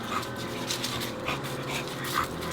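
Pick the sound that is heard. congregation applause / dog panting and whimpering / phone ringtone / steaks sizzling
dog panting and whimpering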